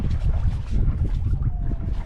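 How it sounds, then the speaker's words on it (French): A sailboat slips quietly out of a bay off Elba, Italy, in light wind of about five knots, its low steady rush of water and wind buffeting on the microphone continuous and close throughout. "On se sort tranquillement de la baie à la voile, il n'y a pas beaucoup de vent."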